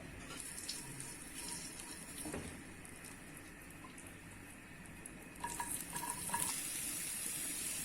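Julienned carrots and raisins cook in oil with brown sugar in a pan, a faint low sizzle with occasional stirring scrapes that grow a little busier toward the end.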